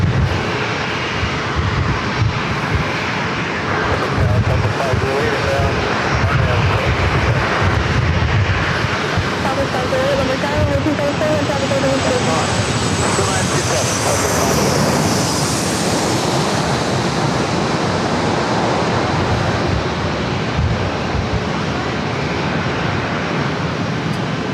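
Jet airliner arriving on runway 27 at San Diego airport, a broad roaring rush that swells and fades over the whole stretch beneath steady wind noise, with a voice talking over it.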